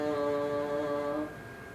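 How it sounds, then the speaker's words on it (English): Bassoon reed fitted with the wing joint, making an instrument about three feet long, sounds one steady sustained note with strong harmonics for just over a second, then cuts off, leaving a faint room tail. "now we're going to add the first joint of the bassoon, which is called a wing joint"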